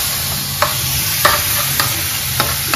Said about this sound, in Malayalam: 4 ടേബിൾ സ്പൂൺ അടുപ്പിച്ച് വിനാഗിരി ഞാൻ ആഡ് ചെയ്തു